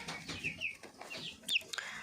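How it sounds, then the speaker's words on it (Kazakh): Chickens on a farm, among them brahma birds and chicks, cluck softly and give short calls nearby, quiet and unhurried with no voices over them. "Міне тауықтар."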